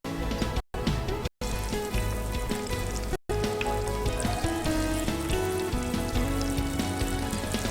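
Cronut dough sizzles and crackles in oil heated to about 180 degrees, a dense continuous frying hiss with brief cuts, no talk.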